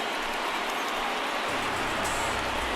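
Steady rain falls on a ballpark in the MLB The Show 19 baseball game, a soft, even hiss running continuously without any voices.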